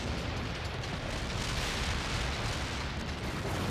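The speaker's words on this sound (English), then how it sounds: "Get some shells on them before they dig in, Parker!" Artillery shells rain down on Russian forces in World in Conflict, a continuous, dense roar of explosions that stays loud and close throughout.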